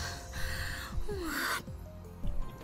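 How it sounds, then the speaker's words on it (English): A character in the Steins;Gate visual novel gasps for breath, a few short strained breathy gasps over steady game background music, with no talk. "Caduceus gasps for breath while Mayuri calmly munches on a banana."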